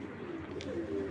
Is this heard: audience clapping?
no